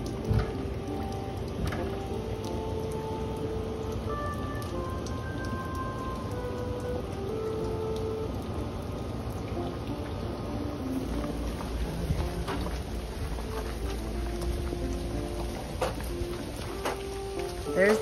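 Steady rain falls outdoors around a deck and pergola being taken apart, a continuous broadband wash of drops with occasional louder patters close by, no talking.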